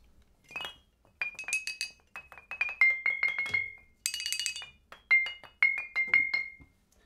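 The glass section of a homebuilt percussion instrument combining wood, glass and metal rings out under repeated strikes, bright clinking tones in quick irregular runs with short decays, heard alone and close.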